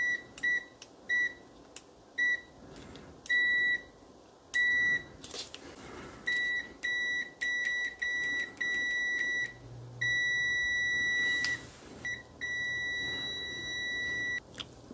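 Klein Tools MM720 multimeter on continuity test giving a run of sharp electronic beeps, short chirps early then longer steady tones, clear and close over faint background hum.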